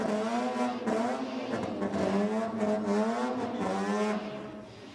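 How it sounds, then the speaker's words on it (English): Mazda RX-7 rotary engine wailing through a drag-race burnout: loud, high rising-and-falling engine notes that rev repeatedly, with some tire-squeal texture and faint crowd or background noise. "The Rotary wailing away down in the burnout."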